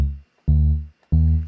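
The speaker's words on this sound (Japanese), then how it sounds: "これはいわゆるサブベースみたいな音ですね。 ベースの低音を支えるために使うようなイメージの音です。" Deep synth sub-bass sample triggered from pad bank C in the iMPC Pro 2 app on an iPhone, three sustained low notes that swell and fade in a steady rhythm with short gaps between them.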